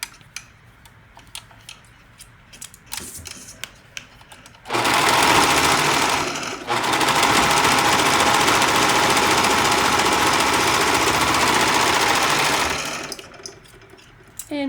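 A sewing machine runs steadily while stitching the armhole of a baby top made from old basketball shorts, with a brief pause and restart mid-seam, then stops before quiet handling noises.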